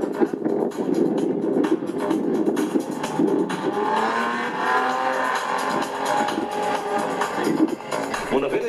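A car turns around and drives off, its engine revving hard with bursts of tire squeal. The sound stays close and loud for several seconds, with voices faintly in the background.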